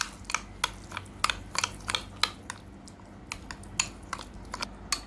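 A spoon clinks and scrapes against a bowl while sugar and honey are stirred into yogurt for a cucumber salad, with sharp, irregular taps repeating at close range.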